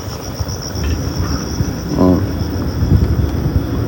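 Frogs croak at night near a residential area in Zhenjiang, Jiangsu, around 1 a.m. A steady, insect-like trill runs throughout, with a short pulsed croaking burst midway against a low outdoor hum.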